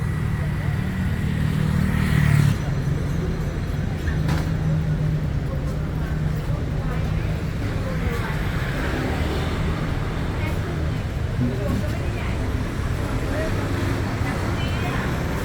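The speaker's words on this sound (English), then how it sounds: "It's a bus for the locals." Engine rumble and traffic noise from a small local bus on a Bangkok street in Thong Lo, Sukhumvit Soi 55, a steady low drone that swells briefly, with people talking over it.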